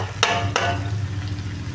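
Banana flower and potatoes being stir-fried in a pan, with two sharp scraping clacks of a spatula over a steady low sizzle.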